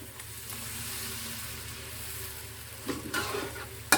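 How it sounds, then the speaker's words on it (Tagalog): Mushroom mixture for a mushroom burger steak hits a hot pan slick with beef fat, giving a steady frying sizzle and stirring scrape, with a sharper burst near the end. "ibubuhos natin yung mushroom na ating minix"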